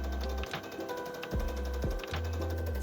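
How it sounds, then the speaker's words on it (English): A sewing machine runs long gathering stitches along the edge of a vintage lace curtain, its motor whirring steadily in close, continuous bursts with brief pauses and clicks between runs. "increase the stitch length to 4 millimeters and sew 2 parallel stitch lines along the top edge"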